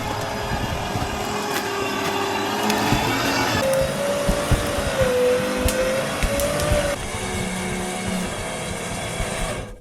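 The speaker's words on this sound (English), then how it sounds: "So we're winching the fat truck into the trees to stow it for the summer." A fat truck is winched up into the trees, with a steady mechanical whine rising over a constant loud motor drone for a few seconds before easing back to the rumble.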